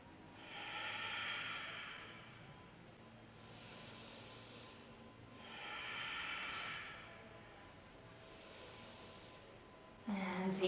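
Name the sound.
deep breathing into the belly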